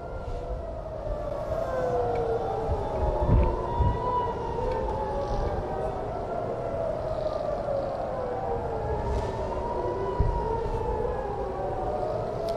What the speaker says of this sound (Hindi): ईरानी मिसाइल हमले के बाद इसराइल में सायरन बज उठे हैं।